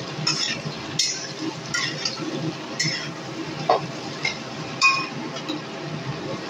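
Raw mango pickle with turmeric stirred in a pan, the spoon clinking and scraping against the metal in scattered knocks over a soft, quiet background hiss.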